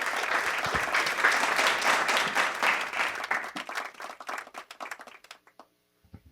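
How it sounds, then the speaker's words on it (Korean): Seminar audience gives a round of applause, dense clapping that holds steady, then breaks up into scattered individual claps and fades to near silence. "박수 한번 더 부탁드리겠습니다."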